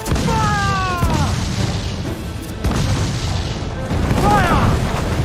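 Ship cannons firing in Assassin's Creed IV Black Flag, heavy booms and crashes rolling under constant battle noise while crew voices shout over the action.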